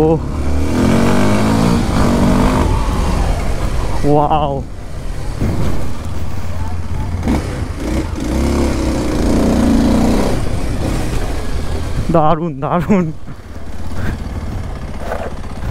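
A motorcycle engine drones steadily while the bike is ridden and braked, loud and continuous, with a person talking and exclaiming over it throughout.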